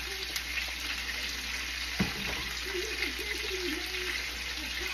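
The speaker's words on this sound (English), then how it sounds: "And now I'm gonna let it fry." Lamb chops fry in a pan seasoned with seasoning salt, a steady quiet sizzle with a single clunk partway through.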